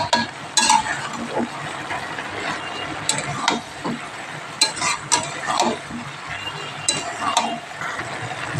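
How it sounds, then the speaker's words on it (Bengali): Spiced food cooking in a pan is stirred with repeated scraping strokes and light clinks, over a constant background hiss of gentle sizzling, close and fairly loud. "ভালো করে নেড়ে দিয়েছি"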